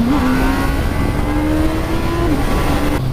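Honda CB1000R straight-four motorcycle engine revving loudly up close, a smooth sustained high-pitched howl holding steady for a few seconds before dropping off.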